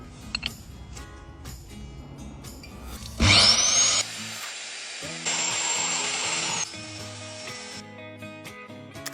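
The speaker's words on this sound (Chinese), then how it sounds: "机器钻孔的深度就只有30厘米左右，转孔器的直径是160的规格" A machine auger with a 160 mm bit grinds holes into a rock cliff wall, giving a loud, steady whine that starts abruptly, cuts out, then resumes.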